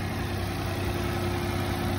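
Freshly started 2023 Mitsubishi car engine running at an auction, a smooth, even low rumble holding steady throughout, close and moderately loud with no talking.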